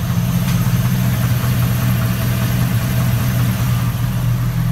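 A Chevrolet Silverado 5.3 V8 with lifter tick idles close by, producing a loud, steady, even engine drone throughout without talk.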